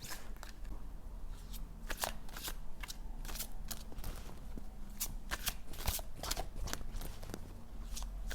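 Oracle cards for the heart chakra are shuffled for a reading, a steady run of crisp riffling and soft slaps of card edges repeating throughout at close range, with no talk over them.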